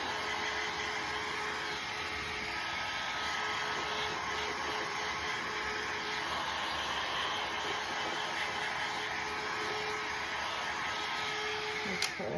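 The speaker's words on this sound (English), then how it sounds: "The blow dryer doesn't get near as hot." A blow dryer runs steadily while drying reverse decoupage on glass, a constant even whirring hum held close throughout with no talk, ending in a brief click.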